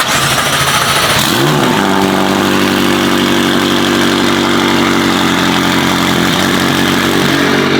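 A Lamborghini Aventador SVJ with a Gintani F1 exhaust and flame tune fires up loudly after a brief starter whirr, then settles into a deep, steady, rumbling idle close by, with no talking.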